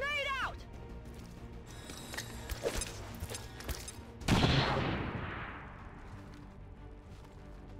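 A grenade thrown and exploding in the video game XCOM 2: a sudden loud blast with a broad, decaying rumble that fades over several seconds, following brief game sounds.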